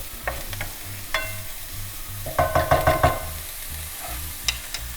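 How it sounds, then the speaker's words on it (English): Chorizo cooks in a pan with a low, steady frying hiss, broken by a quick run of sharp utensil clicks and scrapes near the middle and a few isolated taps toward the end. "we're gonna put some chorizo in there and get that cooking as well"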